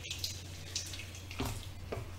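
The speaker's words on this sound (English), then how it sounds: "We're actually softening them with water first," Water is poured over dry vermicelli noodles to soften them, giving a faint, soft trickle and a few light splashes over a low steady hum.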